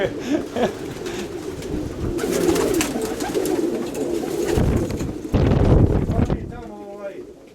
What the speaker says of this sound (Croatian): I kakav golubčić.